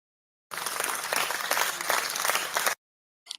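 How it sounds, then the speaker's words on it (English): Canned applause played from a soundboard during an online class call: a dense burst of clapping and crowd noise lasting about two seconds, cutting off abruptly, then a brief faint blip. "Sarah, you want to hit us with the claps?"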